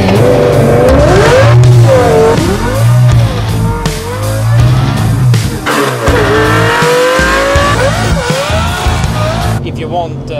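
Volvo car fitted with a Lamborghini engine revving hard, a loud, close engine roar that rises and falls through several sweeping revs, with voices talking over it.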